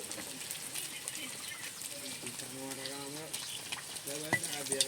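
A few small dried red chillies sizzle in hot oil in a home kitchen, a soft continuous crackle with occasional pops while a person talks over it.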